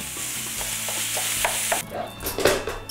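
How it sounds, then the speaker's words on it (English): Ground beef and onion cook together in a pan: a continuous close sizzle with scraping stirs, then brighter clattering bursts near the end. "we're gonna just cook these together, the onion and the ground beef"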